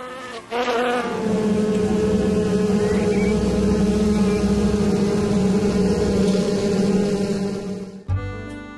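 Bees foraging for nectar on abundant bramble flowers outdoors, a steady close insect buzzing that holds for about eight seconds before an abrupt cut to other noise, no talk.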